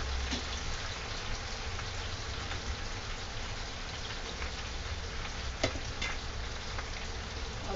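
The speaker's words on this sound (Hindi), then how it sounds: "और इसे कुछ सेकंड भून लेंगे।" Tomatoes and ginger-garlic paste fry in a pan for jackfruit kofta curry, giving a steady, dense sizzle and crackle throughout with one brief sharper pop near the end; no voices.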